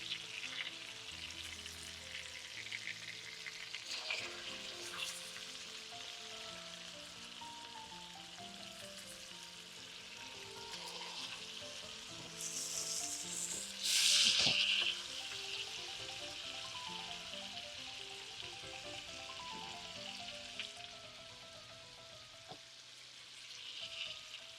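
Salmon fillets frying in a pan make a soft, continuous sizzle with a faint bubbling crackle, lifting briefly in a louder burst of hissing midway.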